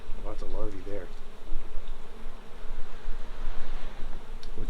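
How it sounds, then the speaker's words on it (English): Honeybees hum in a dense, steady drone at an open hive, close and constant. A voice is heard briefly near the start. "they go inside the hive to kind of flap their wings and cool things down"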